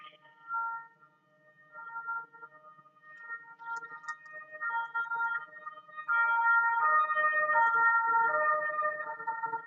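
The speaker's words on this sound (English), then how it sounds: "There's like this really annoying siren in the background," A wailing siren drones steadily in the background, rising and falling in pitch and swelling louder toward the end, with no talk over it.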